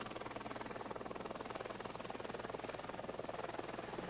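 A helicopter in flight gives a steady, even rotor chop, a rapid regular thumping that holds at a constant fairly faint level throughout.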